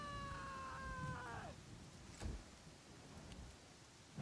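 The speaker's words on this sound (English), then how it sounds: "there's a storm going, so you have the rain and the lightning" A thunderstorm in the video game Pathfinder Kingmaker: a steady hiss of rain with a faint rumble of thunder partway through. A few sustained musical tones fade out in the opening moments.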